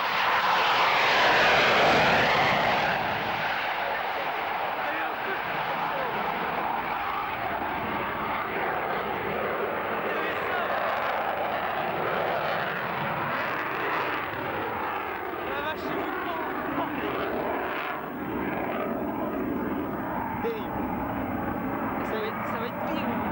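A fixed-wing airplane roars past at an air show, loud at first and then fading into a sustained distant engine drone, with people talking nearby throughout.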